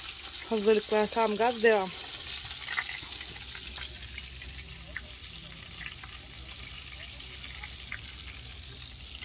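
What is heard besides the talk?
butter melting and sizzling in a pan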